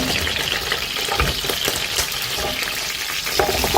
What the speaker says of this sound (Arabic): انا نزلت معلقه السمنه تسيح بس انزل عليها بالتوابل